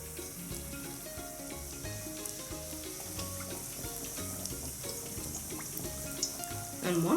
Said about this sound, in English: so now we can start frying